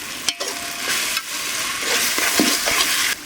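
Tomatoes sautéing in a pan for an egg biryani, a steady close sizzle with occasional scrapes and stirs of a spoon, no voices.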